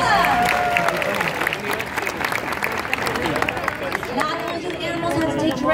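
A live crowd at the Animal Actors show at Universal Studios Hollywood applauds, with clapping and cheering mixed into crowd chatter while a voice speaks over the noise throughout.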